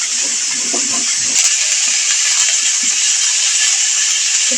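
Cauliflower frying in a pan gives a steady, even sizzling hiss that runs the whole time, with faint low clatter and background sounds beneath it.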